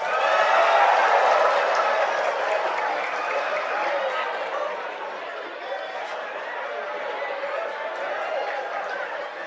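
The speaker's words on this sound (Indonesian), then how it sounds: "kok tepuk tangannya keras banget" Loud, sustained applause from a large audience at a presidential closing address to a national ulama conference, dense clapping at full strength that eases slightly but continues throughout, with crowd chatter mixed in.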